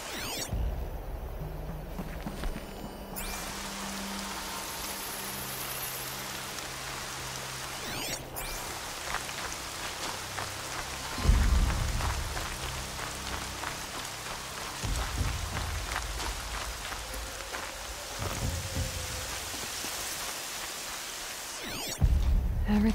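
Steady rain falls in the video game Horizon Zero Dawn, a soft continuous patter broken by a few louder thuds, with no talking.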